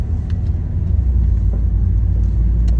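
A 2010 Mazda 3 is driven on the road, heard as a steady low engine and road rumble from inside the car, constant and fairly loud with no talking.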